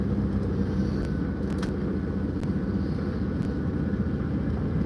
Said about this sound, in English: still testing out the new clutch cable